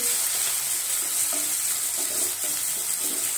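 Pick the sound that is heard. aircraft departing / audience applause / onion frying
onion frying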